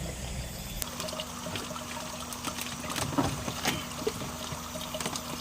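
Pond water poured into a plastic bag holding red tilapia fingerlings, a soft, steady trickle and splash with scattered drips, close by and moderately quiet against a faint low hum.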